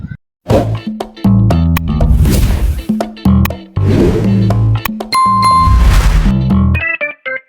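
A notification bell sound effect rings out among a busy run of whooshes and thwacks, its clear sustained chime loudest in the middle of the sequence, with no talking.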